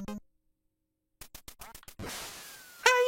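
Ducks quacking in a light gun duck shooting video game: after a silent gap come short rhythmic blips, then a noisy burst and a bright, tonal quack-like call at the end, loud and close.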